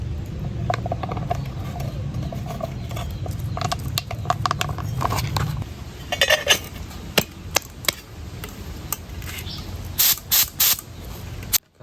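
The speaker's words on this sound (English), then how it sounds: "Now, when this paint starts to be sprayed, you can see for yourself the results" Spray gun spraying black paint mixed with baby powder onto a taped gallon can, a steady hissing spray with bursts that start and stop, then several sharp short blasts near the end.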